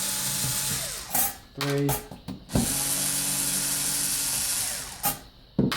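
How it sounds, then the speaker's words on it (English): Screws are undone by hand on the case of an MX-5 engine ECU, with short close tool clicks, scrapes and a sharp knock in bursts, under light speech and a steady background hum. "Simply undo the top screws."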